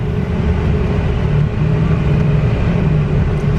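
A 2007 Ford E250 extended wheelchair conversion van with a Braun side-entry lift drives along, its engine and road rumble a steady, loud low drone heard from inside the cabin.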